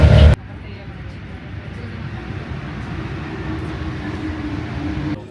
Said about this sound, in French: Les gars, on est dans le deuxième métro